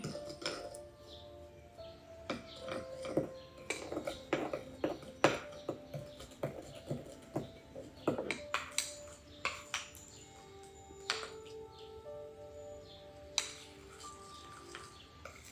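Bowl-mixing of a homemade hand cream made with castor oil: a steady run of light clinks and taps as a utensil strikes the bowl, fairly close and moderately quiet, with no talk.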